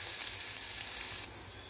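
Onions sautéing in a pan for aval upma, a soft steady sizzle up close that drops to a quieter hiss near the end.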